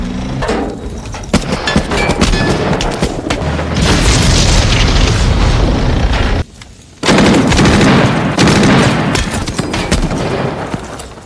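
Gunfire in the war film Saving Private Ryan, with loud rapid machine-gun bursts and booming shots in a dense battle din, broken by a brief lull before the firing resumes.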